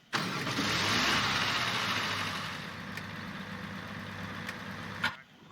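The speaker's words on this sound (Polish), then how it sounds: "I teraz spróbujemy odpalić furę." A car engine in the Roblox game Dusty Trip cranks and catches, then settles into a steady, fairly loud mid-pitched idle hum lasting several seconds before cutting off abruptly.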